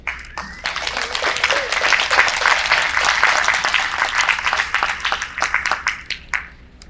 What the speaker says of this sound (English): applause for both as they come to the stage.